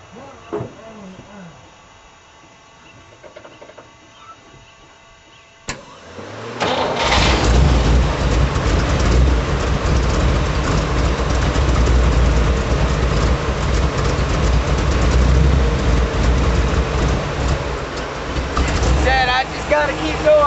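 A carbureted Chevy engine, not yet tuned and prone to running rough, is heard: a few quiet clunks, then it cranks and fires, settling into a loud, continuous close-up running drone for the rest of the clip.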